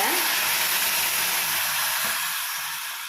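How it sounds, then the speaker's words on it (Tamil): Onions sauté in a pan for a cabbage, beans and carrot poriyal, making a loud, dense, steady sizzling hiss close by. The hiss fades slightly toward the end, with faint scrapes underneath. "இது எல்லாத்தையும் ஒன்று சேர வதக்கி விடுங்க"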